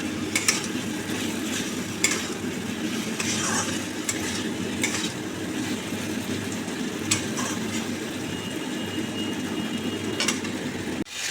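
Okra masala with potatoes sizzles steadily in a pan while a utensil stirs and scrapes now and then, a continuous close frying hiss broken by light metallic clinks, without any talking.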